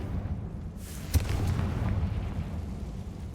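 An explosive Confringo spell cast in Hogwarts Legacy sets off a booming burst with a sharp crack about a second in, followed by a rumbling blast that lingers at moderate loudness.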